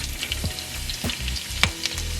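Curry leaves fry in a pan with a soft, continuous sizzle, broken by a few sharper pops and crackles close by, with no voices over it.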